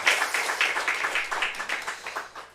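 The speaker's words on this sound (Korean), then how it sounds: "하나님 앞에 영광의 박수 올려드립니다." A church congregation claps during a Sunday morning worship service, a fairly loud, evenly paced run of handclaps that fades slightly toward the end.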